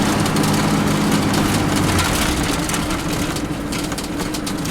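A one-owner vintage Class C motorhome, a Shasta Chinook on an F-250 chassis, idles with a steady low engine rumble throughout. The level stays fairly constant and there is no talk.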